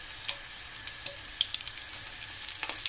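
Chili sizzles quietly in a pan of hot oil as a soft, steady frying hiss, with scattered small crackles and pops.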